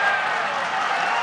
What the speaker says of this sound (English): And another huge cheer goes up.